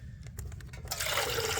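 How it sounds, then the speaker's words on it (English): Water poured to fill a container at an outdoor roadside cooking setup with a butane stove in Red Rock Canyon, Las Vegas. Quiet background gives way to a sudden, steady, close rushing of liquid that continues to the end. "Now, I'm going to fill the water up."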